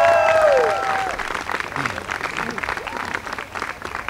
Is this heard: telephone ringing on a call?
no